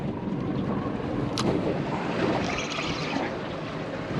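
Strong wind buffeting the microphone on a fishing boat at sea, a steady broadband rush with water and engine rumble underneath, continuous and fairly loud with no talking.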